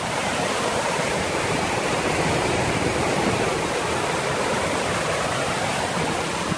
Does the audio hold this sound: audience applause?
no